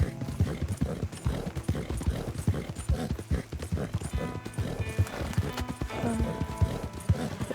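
Arabian horse hooves clip-clopping steadily in Red Dead Redemption 2, a brisk, continuous rhythm of hoof strikes close up, with an occasional faint whinny and no talk over it.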